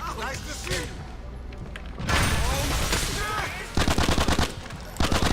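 Gunfire and a grenade blast in GTA IV: a dense stretch of combat noise with a loud burst near the middle, then rapid repeated machine-gun-style shots toward the end, with players' voices talking over it.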